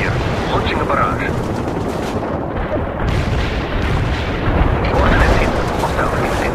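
An artillery barrage in the World in Conflict strategy video game, a dense, continuous rumble of overlapping shell impacts and booms that swells toward the end, with battlefield radio voices faintly under it.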